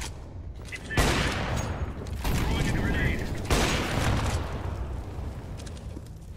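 A grenade detonates in Counter-Strike: Global Offensive with a sudden loud blast, followed by sustained rumbling gunfire and explosion noise, with voices faintly underneath.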